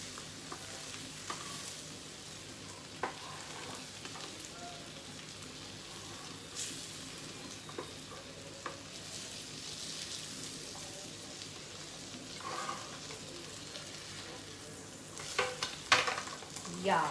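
Paneer frying in a pan and being flipped, a steady close sizzle with soft stirring scrapes and a few louder clatters near the end.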